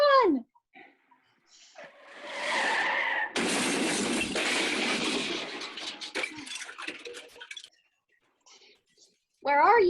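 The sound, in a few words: car skidding as it swerves, radio play sound effect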